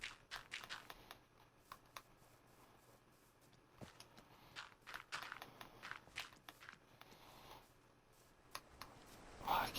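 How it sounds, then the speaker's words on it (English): Footsteps in the horror video game Meat Planet, irregular soft thuds and scuffs moving around at close to middle distance, quiet overall with brief louder steps and a faint crackle near the end. "I keep hearing creepy like footsteps all around me"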